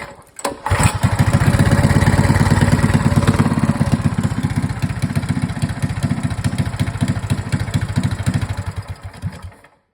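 A small engine, just refitted with a swapped valve, starts up and runs with a steady throbbing putter for several seconds, then sputters and dies out near the end. It is loud and close, with no talking.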